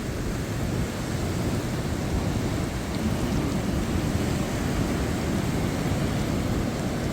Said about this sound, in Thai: ฝนตกแล้วค่ะ